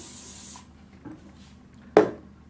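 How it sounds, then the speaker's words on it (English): Hairspray from an aerosol can sprayed onto hair: a steady close hiss lasting about half a second, then a short sharp spray burst near the end. "I'm just going to put my head down and put some hairspray on"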